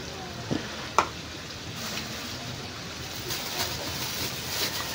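Onions, garlic and tomatoes hit a pan of softened pork for pinakbet, giving a steady, fairly quiet sizzle that runs through the whole stretch, with a few faint clicks and no talking.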